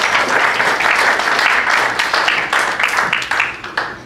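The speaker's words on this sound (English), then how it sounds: "Let's give him a round of applause." An audience at a golf injuries seminar held at a golf club claps in dense applause, thinning into scattered individual claps toward the end.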